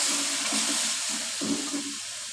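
Carrots go into sizzling masala in a pan for a mixed vegetable salan, producing a steady, close frying hiss with a faint low hum underneath.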